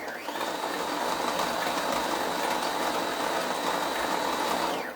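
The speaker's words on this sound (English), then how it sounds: "while I fill this bobbin a little bit" Sewing machine winding a bobbin for quilting, a steady mechanical whir that holds evenly for the whole stretch at close range with no talk.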